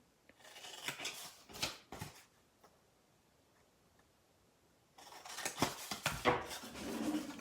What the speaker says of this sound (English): Okay, so cut up to the score line.